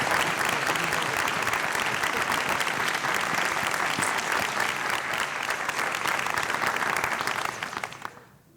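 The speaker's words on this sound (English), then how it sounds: "How about a round of applause for Arlene Abiang and all of the kokua" Sustained audience applause at a university awards ceremony honoring volunteers, dense steady clapping from a large crowd that holds for several seconds and then fades out at the end.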